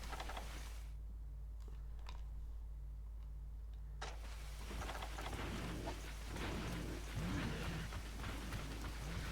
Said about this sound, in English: Because it's raining, it's nighttime.